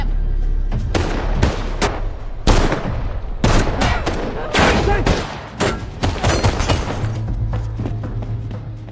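Gunfire from an action film shootout bursts out in rapid, loud volleys of shots and booms, dense and continuous across the whole stretch, with a voice talking over it.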